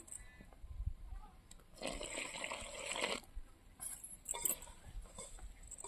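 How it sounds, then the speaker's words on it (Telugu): Water poured into a batter for Rayalaseema-style brinjal bajji in a steady stream lasting about a second and a half, followed by quieter trickles and a few soft splashes in a calm kitchen. "ఇప్పుడు దీంట్లోకి నీళ్ళు అయితే పోసుకోవాలా"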